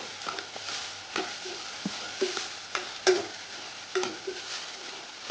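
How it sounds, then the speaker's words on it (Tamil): Onions sautéing in a pan for a Thanjavur sundakkai kuzhambu, a steady soft sizzle broken by light intermittent scrapes and taps of a spoon, close and moderately quiet with no talking. "வெங்காயம் நல்லா வதங்கட்டும்"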